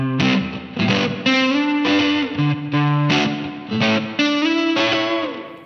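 A distorted electric guitar with a chorus effect plays a quick lick from a song, with bent and sliding notes and strummed chord stabs, close and loud with no talking.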